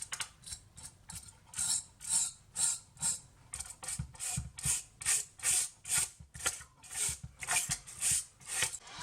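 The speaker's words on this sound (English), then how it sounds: "I'll use a hard brush to free up the dust" A hard brush scrubs dust off a PS5 heatsink in quick repeated strokes, a steady rhythmic bristly scraping up close, roughly two strokes per second with no talking.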